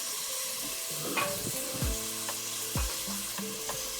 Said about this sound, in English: You just fry the onion until just a little tender. We fry it on medium heat,